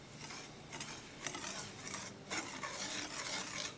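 Semolina is mixed in a bowl with salt, cumin seed, black pepper, green chili and ginger, making faint, rhythmic scraping and rustling strokes that come in repeated bursts, with nobody talking.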